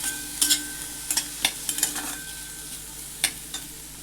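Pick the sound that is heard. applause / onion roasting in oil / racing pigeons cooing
onion roasting in oil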